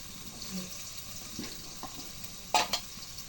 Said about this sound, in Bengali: এখন জিরা বাটা রসুন বাটা দিয়ে দিই।